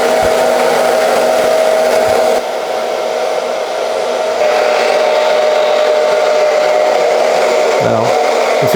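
A hair dryer runs on its cold setting, a steady close whirring blow with a brief dip in the middle as it's moved, used to set a haircut on curly hair.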